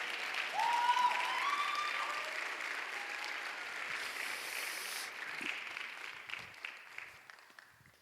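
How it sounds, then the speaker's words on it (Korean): A church congregation at a Sunday young-adults service applauds a couple starting a family, the clapping swelling up loud and broad, then slowly thinning and fading toward the end. "우리 정아림, 최호진 커플을 축하의 박수로 맞아주시기 바랍니다"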